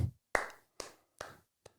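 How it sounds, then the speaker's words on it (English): Four slow, deliberate hand claps with long pauses between them, dry and close, the last one softer, delivered in a sarcastic, insincere manner with no talk. "very insincere clap"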